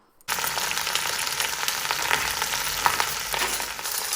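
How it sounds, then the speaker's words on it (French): Meat browns in a covered pan over medium heat, an even, close sizzle that starts abruptly and holds steady with faint crackles throughout. "vous allez faire dorer de chaque côté, toujours sur feu moyen, votre viande"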